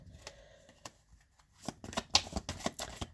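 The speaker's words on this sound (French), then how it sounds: "On va étirer un peu les cartes." Tarot cards are shuffled with a series of soft, papery riffles and snaps, quiet and close, building into denser rapid flicks toward the end with no talking.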